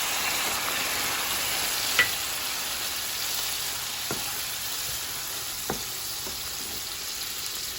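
White wine added to a hot pan of creamy butter garlic sauce for salmon sizzles in a steady, even hiss throughout, with a few faint taps of a utensil against the pan.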